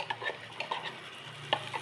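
A spoon stirs ground paste into tomatoes frying in a pan for a valai fish curry, with scraping clinks and a soft sizzle underneath, close and fairly quiet.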